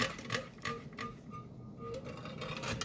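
A bag sealer presses a double seam onto a bag of freeze-dried blueberries, giving faint, quiet mechanical clicks and taps at an irregular rhythm over low room noise.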